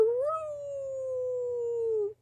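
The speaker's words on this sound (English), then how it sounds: "Clifford barked happily." A single drawn-out dog vocalization, more howl than bark, holding one steady pitch for about two seconds, loud and close with nothing else behind it.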